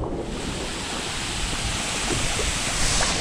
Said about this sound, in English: Checking this waterfall out.